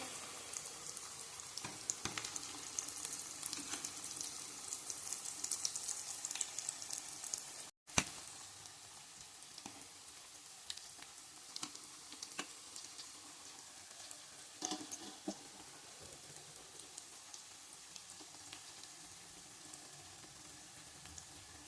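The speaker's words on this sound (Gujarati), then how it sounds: "ગોલ્ડન બ્રાઉન કલરની થાય ત્યાં સુધી તેને તેલમાં ફ્રાય કરવાની છે." Onion tikki cutlets frying in hot oil, giving a steady soft sizzle with scattered pops and crackles over about twenty seconds, alone and without voices.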